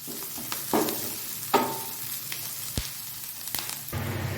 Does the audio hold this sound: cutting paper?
no